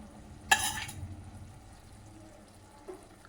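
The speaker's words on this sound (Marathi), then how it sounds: "या पद्धतीने तूप टाकून घ्यायचं आहे. म्हणजे छान हलवायचं." A spoon stirs a coconut barfi mixture in a pan after ghee goes in, opening with a sharp clatter, then a soft quiet sizzle and faint scraping, with a light tap near the end.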